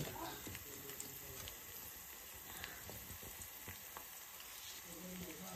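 Onion and garlic frying in a pan for a tribal-style black crab curry, a steady soft sizzle with occasional stirring scrapes throughout, moderately quiet.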